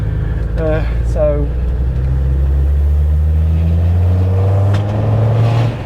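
A tuned Land Rover Defender Td5 90 with a Falcon hybrid turbo accelerates in third gear in a short burst, its steady, loud engine drone rising in pitch inside the cabin, with a brief voice near the start.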